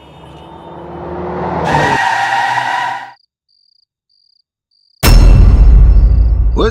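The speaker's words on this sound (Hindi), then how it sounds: "इतने झटके देके क्यों ब्रेक लगा रहा है भाई?" A car on a highway brakes hard in jerks, with a rising engine roar and screeching tire skid cutting off abruptly, a brief silence, then another loud burst of skidding and road noise.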